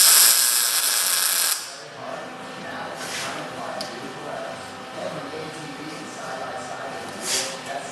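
A welder tacks steel uprights, a harsh buzzing crackle heard up close at the start that cuts off abruptly, leaving a quieter room with soft clicks and a brief hiss later on.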